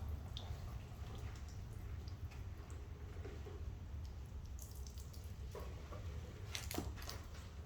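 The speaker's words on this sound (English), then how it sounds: "I'm going to wash that residue off." Water from a hose or tap rinses residue off a car's paint, a steady soft splashing stream with a few brighter drips and spatters near the end.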